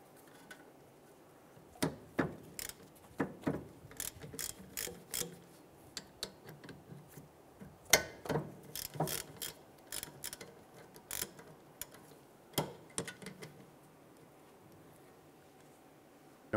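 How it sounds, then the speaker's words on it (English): A ratchet with a 14 mm socket works loose the caliper bolts on a 2012-2017 Toyota Camry, giving irregular bursts of sharp, close clicking separated by short pauses, with no talk. "Using our 14 millimeter socket with our ratchet, we're gonna go ahead and loosen and remove the two caliper bolts here."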